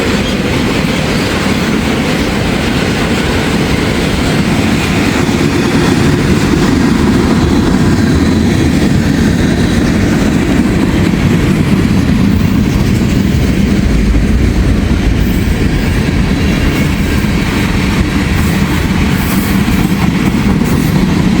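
A freight train with Soo Line boxcars rolls steadily past close by, a loud continuous rumble with clickety-clack wheel rhythm that holds for the whole stretch without letup.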